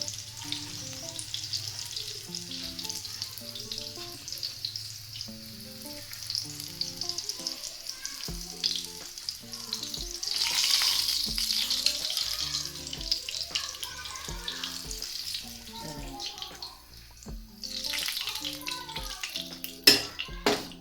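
Chicken chapli kebabs fry in hot oil in a pan, giving a steady bright sizzle throughout, with occasional clinks of a utensil and pan as the kebabs are lifted out one by one.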